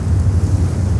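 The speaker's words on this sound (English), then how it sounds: "the wind is picking up on this bitter cold" Wind blows hard on a bitter cold, stormy, snowy November day at JFK airport, a loud, continuous low roar buffeting the microphone for about a second, with no voices.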